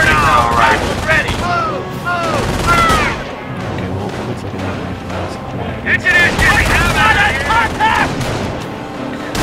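Rifle fire crackles through a Company of Heroes mod battle, with repeated shots and bursts mixed under loud shouted commands and in-game voices throughout.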